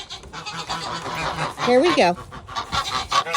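Geese honk loudly and repeatedly while being herded out to a morning pasture, the calls rising and overlapping near the listener, with someone talking briefly at the start.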